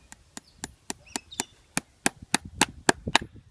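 A steady series of about a dozen crisp hammer taps driving horseshoe nails into a hoof, quick and regular, growing slightly louder toward the end.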